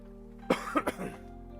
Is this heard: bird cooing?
no